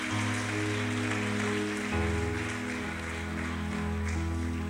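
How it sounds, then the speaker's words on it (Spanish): A church congregation applauding during a Sunday service, a dense, continuous wash of clapping over sustained, organ-like musical tones. "yo quiero que los que son del Señor le demos un aplauso al Señor en este momento"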